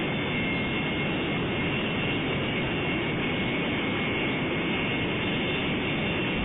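Simulated Su-27 jet engine at full military throttle in the flight game Lock On, a constant loud roaring rush with no breaks and no voices.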